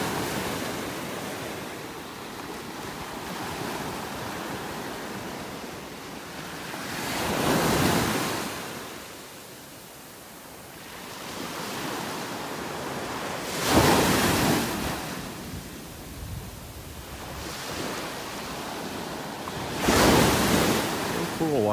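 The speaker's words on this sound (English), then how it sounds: "That was some pretty good waves." Ocean surf rolling onto the beach at North Naples, Florida, with three distinct wave crashes swelling and fading over a steady wash and light wind noise.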